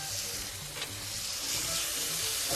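Tomato paste and grilled tomato pulp sizzle steadily in a hot pan while being pushed around, a constant close frying hiss with a few soft scraping strokes and no talking.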